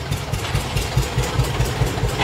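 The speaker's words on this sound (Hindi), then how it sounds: "आ गया आयशा ट्रैक्टर" An Eicher tractor engine idles close by in a rural lane, a steady low diesel throb with regular chugging pulses and no voices.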